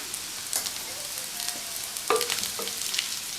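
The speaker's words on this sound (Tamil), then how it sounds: "இப்போ ஸ்டவ்வை வந்து சிம்மில் வச்சுட்டு அப்பப்போ கிண்டி விட்டுட்டே இருக்கணும்." Potato roast fries gently over low heat in a pan, a soft continuous sizzle broken by a few quiet scrapes and clinks as a spoon stirs it occasionally.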